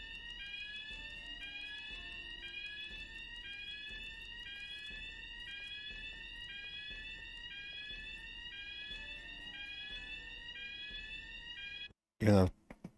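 Fire alarm in the video game Tokyo Dark, triggered by pulling the lever: a continuous whooping electronic siren sweeping upward again and again at an even pace for about twelve seconds, then a short loud burst of other noise near the end.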